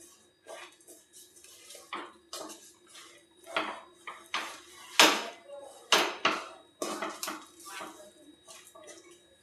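Crushed peanuts are mixed into sugar syrup in a pan for mandvi paak, with repeated sharp scrapes and clinks of a metal spoon against the pan, loud and close, in an irregular rhythm.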